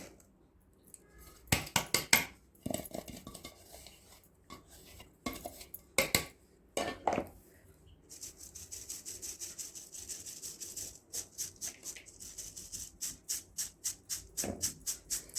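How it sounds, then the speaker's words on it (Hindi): Ground cashew and pistachio pieces sieved through a large sieve for date laddoos, giving soft rasping, scraping rubs and a run of quick rhythmic shaking scratches near the mic, with occasional louder clinks and no talking. "एक बड़ी वाली छन्नी लेनी है और उसे हल्का सा सीव कर लेना, छान लेना, ताकि इसका पाउडर अलग हो जाए"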